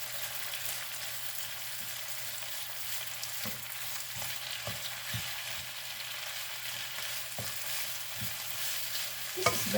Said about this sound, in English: Let's continue to saute.